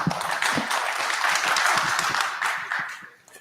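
Applause from an audience at an IETF technical meeting session, a steady wash of many hands clapping that fades out near the end.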